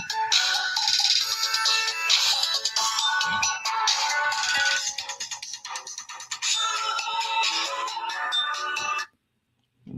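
Mobile phone ringtone playing loud and close for about nine seconds as a continuous bright electronic melody, then cutting off abruptly into silence.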